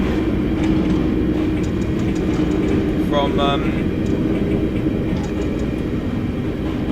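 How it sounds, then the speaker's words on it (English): A Wimbledon-bound London Underground District line train in a video game rumbles past steadily throughout, loud and continuous with a brief brighter rattle midway, while a person talks over it. "That's obviously a Wimbledon train"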